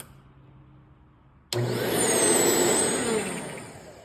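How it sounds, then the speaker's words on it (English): A 1997 Sharp Twin Energy upright vacuum, model EC-12TWT4, with a worn, burning-out belt, switches on abruptly after near silence, its loud motor roar joined by a thin high-pitched whistle that holds steady for several seconds. "A telltale sign to hear the belt burning out is that little high-pitched whistling as you turn the vacuum on."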